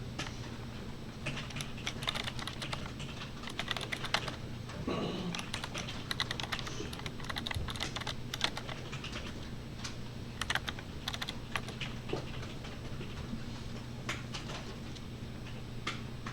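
Rapid, continuous clicking of computer keys, irregular bursts of typing close by over a low steady hum.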